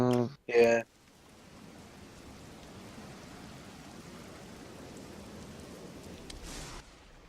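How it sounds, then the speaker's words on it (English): A steady rain sound effect plays during a tabletop Dungeons & Dragons session, an even, moderate hiss of falling rain that runs for several seconds after a brief voice at the start. "Obviously starts to rain, you know."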